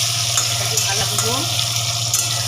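Potatoes frying in oil for a chicken kosha dish, a loud steady sizzle and crackle close to the pan with a constant low hum beneath and faint background sounds.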